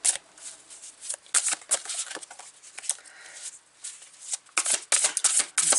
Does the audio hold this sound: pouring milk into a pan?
no